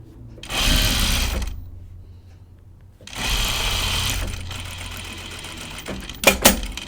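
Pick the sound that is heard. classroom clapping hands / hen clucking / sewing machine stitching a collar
sewing machine stitching a collar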